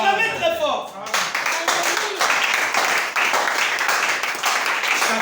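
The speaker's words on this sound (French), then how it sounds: "Acclamez très fort." A church congregation applauding loudly, rapid dense clapping that starts abruptly after a voice and continues steadily to the end.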